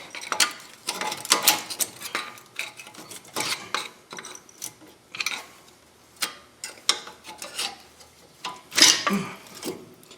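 Worn front brake pads being pried off a 2005 Chevy Trailblazer, a run of irregular metallic clicks, scrapes and ratcheting knocks, close and fairly loud, with no talk.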